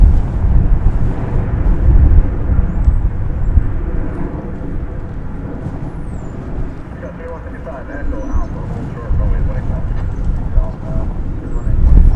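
An airliner departing DFW as flight 1415 to Vancouver produces a steady low jet roar, with gusty wind buffeting the microphone and a voice talking over it.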